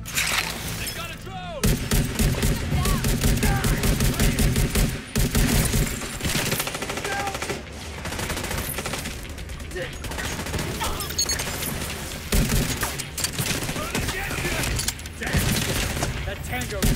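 Video game firefight with dense, continuous gunfire, bursts and shattering crashes layered over a thick soundtrack, loud throughout with brief dropouts, while players talk over it.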